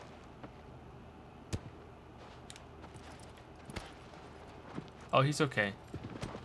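A horse galloping in the video game Shadow of the Colossus, faint hoofbeats under a quiet background, with a person talking over it near the end.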